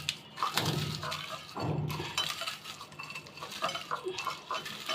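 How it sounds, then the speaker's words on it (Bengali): Fried dried red chilies are mashed with salt by hand in a bowl, giving quiet crackly crunching, scraping and small clinks in uneven bursts, close and soft. "লবণ দিয়ে মরিচগুলি চটকে নিব।"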